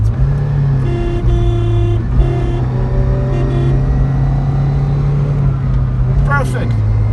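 A Lada Niva Legend engine runs steadily at close range, its drone shifting as gears are changed quickly, with a person talking over it throughout.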